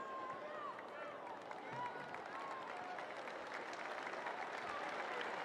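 At a women's football match between Portsmouth and Southampton, the stadium crowd applauds an injured player, a broad, even wash of clapping and crowd noise with a commentator's voice over it.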